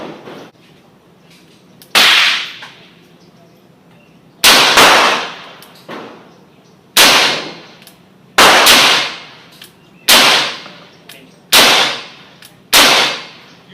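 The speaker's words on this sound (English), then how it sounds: "here's some double action shooting" Seven sharp gunshots from a .38 revolver firing factory wadcutter rounds double action at 12.5 yards, spaced roughly a second or more apart, each loud close crack followed by a short ringing decay.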